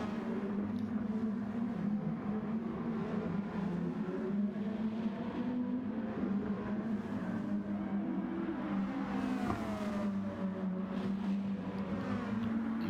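Race car engines, a 2016 Lexus and a 2016 Nissan GTR, drone and rev in a racing video game, a steady close engine hum with pitch rising and falling as the cars accelerate through corners.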